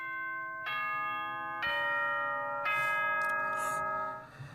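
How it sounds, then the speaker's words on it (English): A chiming school bell from the Danganronpa: Trigger Happy Havoc game rings in three clear, loud descending tones, each struck note ringing on before the next, fading at the end. "The bell rang. School's over."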